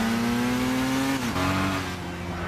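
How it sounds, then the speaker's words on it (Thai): A Mazda RX car with a rotary engine in Gran Turismo 6 holds a loud, buzzy, even engine note, then the pitch drops sharply for a moment as it shifts or lifts before settling at a lower steady hum. "เครื่องของรถรุ่นนี้นะครับก็เป็นเครื่องยนต์แบบพิเศษนะครับ เป็นเครื่องยนต์โรตารี่นะ"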